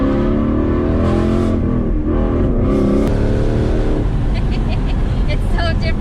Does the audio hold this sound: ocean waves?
no